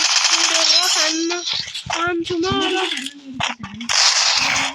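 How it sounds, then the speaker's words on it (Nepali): A video game battle fills with rapid gunfire cracks and bomb bursts, clustered shots coming in quick bursts under a young voice talking excitedly. "बम बारुद आक्रमण भइसकेको छ"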